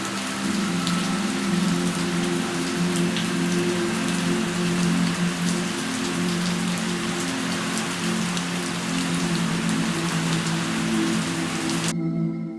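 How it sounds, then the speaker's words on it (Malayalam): Sudden heavy rain falls at Gavi in a forested reservoir area, a dense, steady patter of drops on surfaces that stays loud and even throughout before cutting off at the end, with no talking. "പെട്ടെന്നാണ് മഴ പെയ്തത്."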